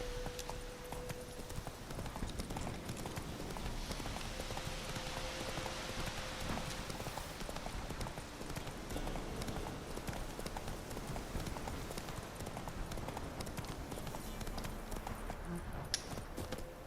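Steady clip-clopping of Roach's hooves as the horse trots along in The Witcher 3 in Velen, a continuous even rhythm of hoof strikes held at a constant level under game ambience, with no talking.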